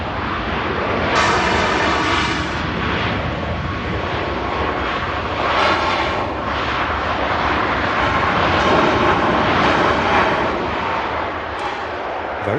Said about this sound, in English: Very loud Ryanair.